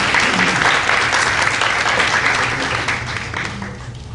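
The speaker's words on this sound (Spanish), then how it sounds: "Les agradezco un fuerte aplauso para darle la bienvenida" Audience at a hospital medical lecture gives a warm round of applause to welcome a doctor to the podium, loud and dense at first and then gradually tapering off toward the end.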